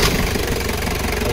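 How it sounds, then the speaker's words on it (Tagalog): A Mazda Bongo R2-RF semi-electronic engine fires up and settles into a steady, close mechanical running drone that continues evenly with no voices. "Engine start."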